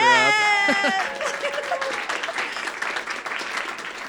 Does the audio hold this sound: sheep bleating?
no